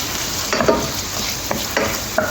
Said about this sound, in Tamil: பச்சை மிளகா போடுவோம் ஒரு நல்லா வதப்போம்